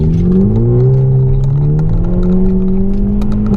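A 2018 Hyundai Elantra Sport fitted with an aFe Scorcher module accelerates hard pulling out of a parking lot, its engine tone climbing steadily and loudly close to the microphone, alone without talk.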